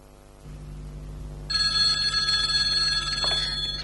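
Telephone ringing close by, a bright electronic warbling ring that begins a second or so in over a low steady hum and repeats without pause.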